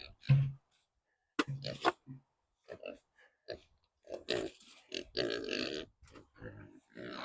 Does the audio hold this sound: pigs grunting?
yes